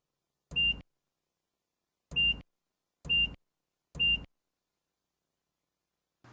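A Hino truck warning buzzer sounds four short, sharp, identical beeps at uneven intervals, separated by silence, with a faint fifth sound starting at the very end.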